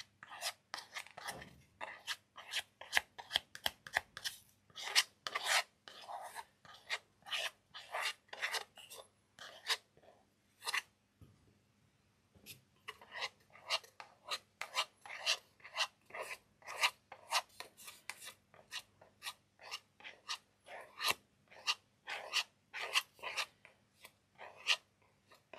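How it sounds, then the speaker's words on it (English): Steady rasping strokes of glue being spread across one side of a card, quick repeated scrapes close to the mic with a brief pause midway, no voices. "Open up your glue and glue one side of your card."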